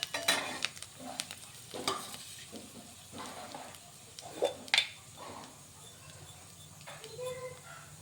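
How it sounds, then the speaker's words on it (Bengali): Bay leaf and dried red chillies fry in oil for a mixed vegetable dish, with a soft sizzle broken by intermittent stirring clatter and utensil knocks against the pan while a voice talks. "হালকা ভাজা ভাজা হবে"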